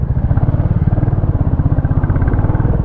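A 2025 Royal Enfield Classic 350 rides over a broken dirt road, its single-cylinder engine pulsing in a loud, close, steady rapid thump with no voices.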